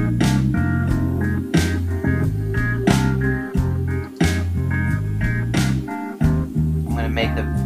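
A full drum kit plays a steady groove with punchy kicks and crisp snare hits, washed in a bright plate reverb that lingers between strikes.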